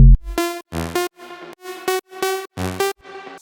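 Several minimal bass synths play together in a choppy, gated pattern, with rich harmonic bursts cutting in and out in a tight rhythm. The layered chords are loud and fill the mix with no voices.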